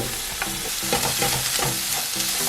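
Onions stir-fried in a pan at home for janchi guksu: a constant close sizzle under repeated scraping and clacking spatula strokes in a loose rhythm, no voices.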